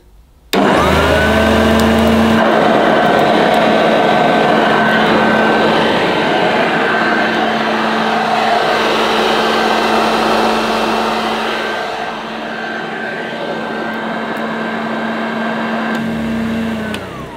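A 1982 Hoover Junior Dirtsearcher U1108 upright vacuum switched on at its high setting, a loud steady motor whine with a strong sustained tone that runs about sixteen seconds, dips slightly partway, then shuts off.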